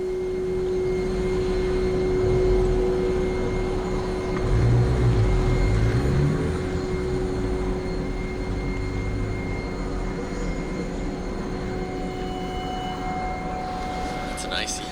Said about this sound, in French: Ça, c'est un hélicoptère gelé.